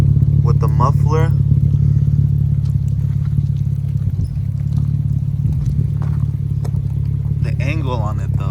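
A 3G Mitsubishi Eclipse fitted with a GReddy titanium muffler idles, its exhaust producing a loud, steady low drone throughout while a person talks over it.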